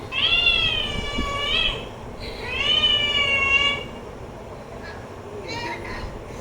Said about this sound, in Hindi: ये बेचारी बिल्ली की जी शामत आई हुई है